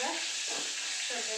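Curry leaves sizzle and crackle in hot oil in a pan, a steady close frying hiss with brief stirring pulses and no voices.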